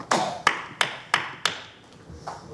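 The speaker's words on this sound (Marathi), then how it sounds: "ही टाळीचा आवाज पटकन येतो" Sharp, close hand claps in a quick rhythmic series, five crisp strikes followed by two fainter ones. This is the distinctive symbolic clap of the transgender community.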